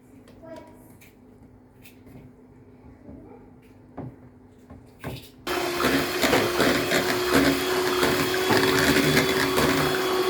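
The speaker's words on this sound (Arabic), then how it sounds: "كده يا جماعه انا بخلط الخليط كويس جدا اهو" An electric mixer beats cake batter for an economical homemade cake: a quiet stretch with faint background noise, then the motor switches on about halfway and runs as a loud, steady, close whir to the end.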